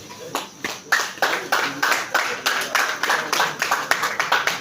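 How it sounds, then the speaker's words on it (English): Audience clapping at a Lagos workshop against drug abuse among youths, sustained scattered handclaps with a steady rhythm filling the room, voices faintly mixed underneath. "Shall we applaud her?"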